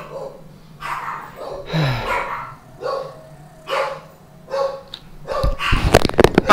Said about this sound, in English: Somebody's walking their dog.